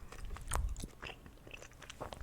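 Soft, close chewing of gum with moist crunches and small smacks in an uneven rhythm. Quiet, with no voices.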